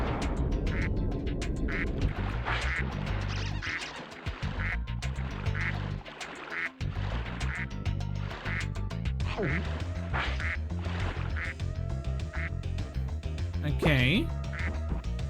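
Duck quacking in the video game Spyro 2: Ripto's Rage, Mystic Marsh level, with repeated short quacks over steady game music and effects, and a brief spoken word.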